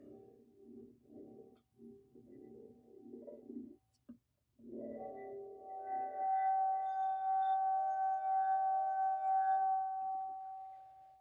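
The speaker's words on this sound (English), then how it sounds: "wet your finger and rub the rim of a wine glass until it starts to resonate" A wine glass rim rubbed with a wet finger builds into a sustained, pure ringing tone that swells loud and steady after some preceding rubbing and handling noises, in a classroom resonance demonstration.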